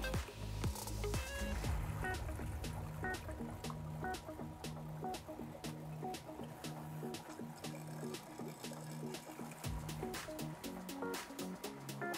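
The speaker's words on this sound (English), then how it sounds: "So I'm gonna go ahead here and dump some water in, and hopefully we'll get it going here." Water poured into a Fluval AC70 aquarium filter to prime it, with close splashing and gurgling, then a run of irregular clicks and knocks from the plastic unit, low in level.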